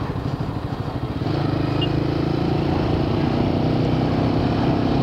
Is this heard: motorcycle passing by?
yes